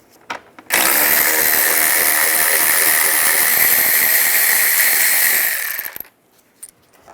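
A power tool spins off the bolts of a driver-side valve cover on a 2007-18 Jeep Wrangler with a 10mm socket, a loud, steady close-up whir that runs for about five seconds, then stops.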